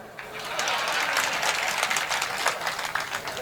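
A crowd at a Hindi comic poetry recital breaks into dense, steady applause, many hands clapping together for a few seconds at close range.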